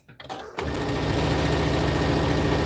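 A sewing machine starts after a brief pause and then runs steadily at speed, a loud, close, continuous rattling hum of rapid stitching while sewing a fabric bowl cozy.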